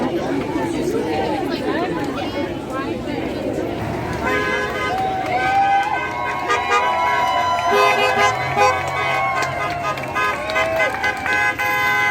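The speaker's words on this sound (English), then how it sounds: "cars and other vehicles were honking their horns at the protesters" Car horns toot and honk repeatedly at a street protest in Charlotte, North Carolina, rising over loud crowd chatter and cheering, with passing traffic in the background.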